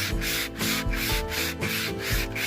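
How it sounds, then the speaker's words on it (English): Aluminum scrubs hard and fast against a rusty machete blade in a steady back-and-forth rasp, about seven quick strokes in a row, close and loud, with no talk. "Scrub hard and fast."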